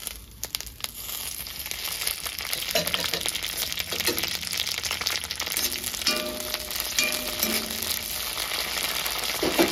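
Oil sizzles steadily in a pan of frying ridge gourd chutney ingredients, a dense continuous crackle and hiss with occasional stirring clatter, loud and close throughout.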